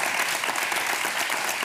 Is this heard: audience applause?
yes